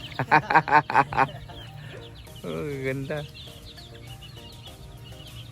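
Chickens at a gamefowl farm cluck and squawk in a loud rapid burst, followed by a drawn-out call, with someone speaking briefly nearby and quieter bird noises continuing behind.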